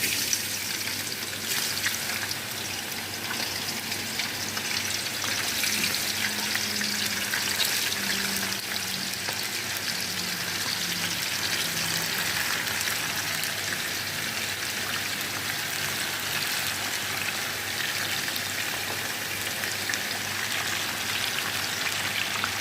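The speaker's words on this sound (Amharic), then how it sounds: "ድንችና ካሮት እጠብሳለሁ በዘይት ማለት ነው" Potatoes and carrots frying in oil, a steady dense sizzle with fine crackling, close and loud, continuing unbroken with no talk.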